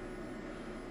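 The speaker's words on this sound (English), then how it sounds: "This is as loud as it gets. It's a DAI 16 kilowatt inverter." Steady low electrical hum from a DAI 16-kilowatt off-grid solar inverter with a broad whooshing fan-like noise, constant and unbroken throughout, no voices.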